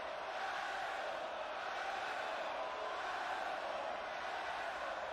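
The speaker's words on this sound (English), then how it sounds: "The crowd, not a fan of this young man. Shouting arsehole." Wrestling crowd at an indie show jeering and shouting at a young wrestler, a steady dense roar of many voices sustained throughout without a break.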